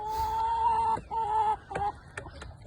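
Chickens clucking in a backyard flock, a few sustained tonal calls and short squawks in quick succession, fairly close and clear, with no talk over them.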